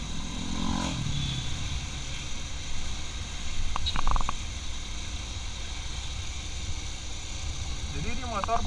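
A Bajaj Pulsar 220F motorcycle rides through a jammed evening street, its engine humming steadily among surrounding traffic noise, with a voice talking over it.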